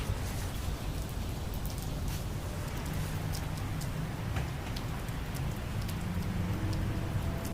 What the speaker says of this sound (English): you get caught in the rain because the rain comes out of nowhere